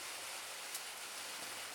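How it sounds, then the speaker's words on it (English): Outdoor rain falls as a steady, soft hiss of hard-to-separate drops, quiet and unbroken throughout. "sorry about the rain, I can't help that"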